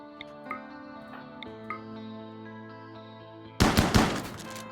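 Chain shotguns firing in RimWorld, a short loud burst of rapid blasts near the end, preceded by tonal game music with soft ticks.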